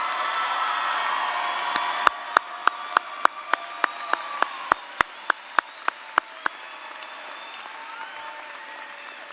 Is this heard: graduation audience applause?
yes